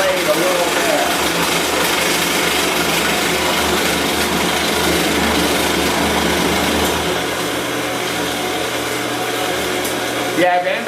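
A Turn Pro mitering bandsaw cuts through metal with some blade chatter, a loud, continuous harsh buzzing grind with a rough rattling texture, steady throughout and close by, its tone shifting slightly near the end.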